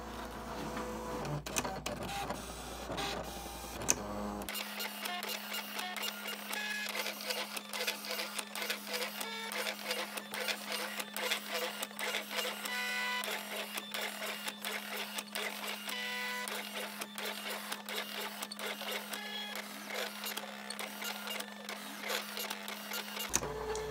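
A Silhouette cutting machine works steadily through an Erin Condren sticker sheet, a continuous whirring motor hum with a dense mechanical buzz and clicking, close and even throughout.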